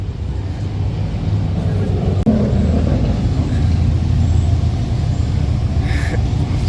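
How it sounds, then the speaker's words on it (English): A car engine rumbling loudly nearby at a big street car show during a cruise event, a dense continuous low roar with a brief sharp click partway through. "Somebody revving."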